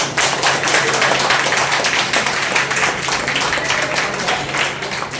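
Audience clapping and applause at a network marketing training session, a dense continuous patter of many hands filling the room at steady loudness throughout.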